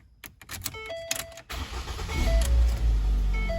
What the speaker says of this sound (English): moment of truth, we will start the car